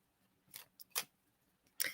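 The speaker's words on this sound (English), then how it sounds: "So what I'm going to do is shuffle the cards, pull a few" Oracle cards are shuffled in a few quick bursts, crisp papery riffles and slaps separated by short pauses, close and fairly quiet, with no voice over them.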